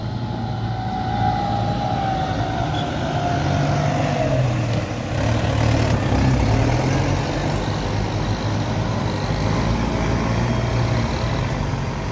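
A Kubota M108S tractor engine runs with a steady, throaty drone at a worksite, holding a fairly constant pitch throughout and sounding fairly close, with no talk over it.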